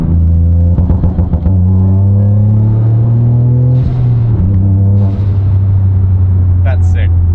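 Turbocharged car launching hard from a rolling start in second gear, its engine droning loud and steady as revs climb and shift in pitch, with a brief squeal near the end.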